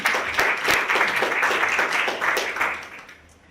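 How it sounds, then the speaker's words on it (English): A conference audience at a public health event claps to welcome the speakers, with brisk, fairly loud clapping that keeps going for a few seconds and then tapers off at the end. "So let's give them all a round of applause to welcome them, get them in the mood."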